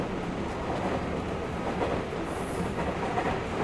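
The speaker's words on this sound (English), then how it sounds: "There are surprisingly few passengers on the train." Steady train ride noise from the Steins;Gate visual novel, a continuous rumbling rail clatter with faint clicking wheels that stays even and close throughout.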